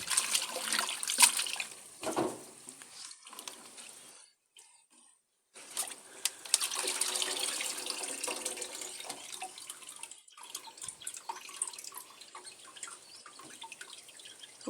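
Tap water runs and splashes as Malabar spinach leaves are rinsed in a kitchen, quiet and close, with brief pauses where the flow stops and then starts again.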